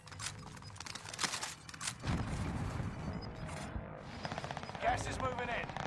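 Rapid gunfire bursts crackle through the Warzone video game's battle audio, sharp repeated shots rising and fading over steady game noise while a player talks over them.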